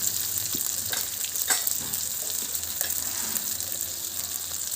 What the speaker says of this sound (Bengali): পুরটা একটু কষে নেব।